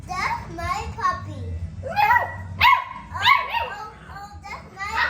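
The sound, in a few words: American Bully puppy barking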